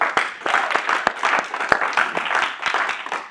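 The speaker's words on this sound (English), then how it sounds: "Round of applause." Brief, fairly light round of applause from a small group at a meeting, with a few distinct claps standing out in a short burst.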